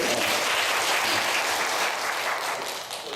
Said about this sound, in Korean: 처음이라 좀 떨리실 텐데 우리 한번 잘 격려 한번 박수 한번 해드리고요.